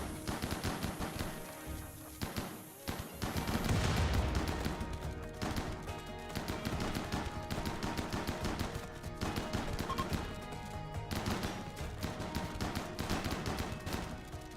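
Mini turrets firing during a RimWorld battle, dense rapid mechanical shots layered into a continuous clattering barrage under game music and effects, moderately quiet and steady throughout.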